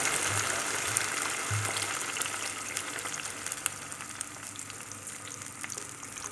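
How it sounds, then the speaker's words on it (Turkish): Water poured into a pan of sizzling black cabbage and tomato sauce with onions, giving a dense, continuous hiss and bubbling sizzle at close range that stays strong and even throughout. "Bu aşamadan sonra su ekliyoruz."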